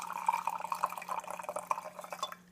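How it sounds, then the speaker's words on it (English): Madrone bark tea pouring through a strainer, a steady close trickle and splash of liquid with small bright drips throughout, fading toward the end. "So I'm going to pour it off using the strainer."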